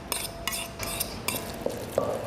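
Cooked pumpkin and ricotta are mashed together in a bowl, producing several soft, wet squelching strokes and a couple of light utensil clicks at close range, with no talking.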